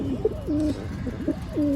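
A male pigeon, father of newly hatched chicks in a loft, coos low and close in several rolling calls, alone and fairly soft.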